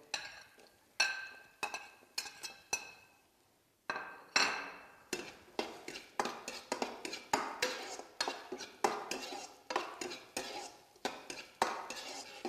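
Scallion, ginger, garlic and green and red bell peppers stir-fried in a metal wok, giving close, rhythmic clanks and scrapes of a spatula striking the pan again and again, with brief pauses and no talking.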